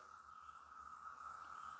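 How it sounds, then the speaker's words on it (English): Cicadas buzzing loudly outdoors, a steady, unbroken high-pitched drone that holds at an even level throughout, with no voices. "the cicadas are insanely loud outside"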